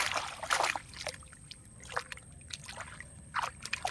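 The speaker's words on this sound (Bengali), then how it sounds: "এইভাবে জলে আমরা পরিষ্কার করে ওকে ধুয়ে নেব" Freshly pulled lotus stem plants rinsed clean in water, with intermittent splashes and trickles coming in short, scattered bursts at moderate distance.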